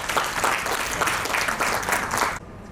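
Audience applause at a Hindi poetry evening organized by a foundation, a steady burst of clapping from a gathered crowd that carries on for over two seconds, then cuts off abruptly.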